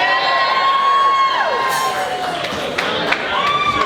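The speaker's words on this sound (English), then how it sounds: "Let's give Ian Haley another round of applause for those beautiful speeches." Wedding guests burst into cheering and applause after the best man's speech, a loud, sustained crowd roar with whoops and shouts throughout.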